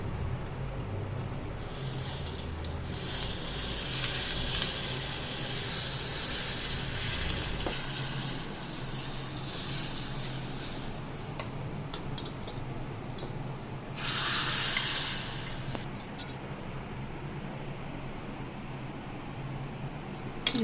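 Masoor dal tadka sizzles in a pan with cumin, curry leaves, Kashmiri chilli powder, garam masala and coriander while it is stirred, a steady hiss that rises into a brief louder burst partway through.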